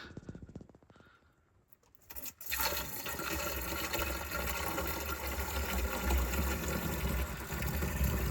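Liquid pours without a funnel into the tank of a 2024 Airstream Interstate 24GT. After a few quiet seconds of faint noise, a loud, steady rushing gush starts and keeps going.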